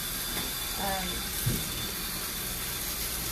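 Running water from a tap while a Maine Coon cat is bathed: a steady, close hiss of flowing water throughout, with one brief soft thump midway.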